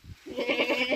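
Goats bleating repeatedly at close range on a rural farm, a wavering, nasal cry that rises and pulses in quick succession, standing alone with no talking.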